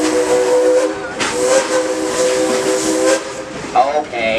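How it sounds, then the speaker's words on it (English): A steam locomotive whistle on the Frisco Silver Dollar line gives several loud, close toots over a constant hiss of steam, the blasts separated by short breaks. "take a couple more toots on that whistle"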